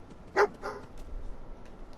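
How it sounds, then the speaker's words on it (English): A dog in the video game Fallout 4 at the Red Rocket gas station gives one sharp, close bark followed by a softer short yip, then low ambience. "We've got a dog."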